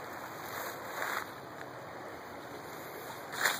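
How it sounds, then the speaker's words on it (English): Water from a sandstone creek runs steadily behind a house, a soft broadband rush with slight surges, heard close and alone with no voices. "I've got this beautiful ass creek right in my backyard"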